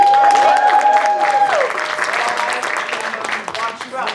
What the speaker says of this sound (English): Can I give it up for Mr. Morrow and give it in his hands?